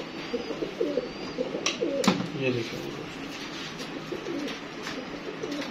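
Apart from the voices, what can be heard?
pigeons cooing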